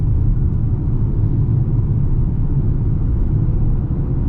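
Interior drone of a 2025 Mercedes-AMG GLA 35 SUV driving in Sport Plus mode: a steady, loud low-pitched engine and road rumble, constant throughout with no talk.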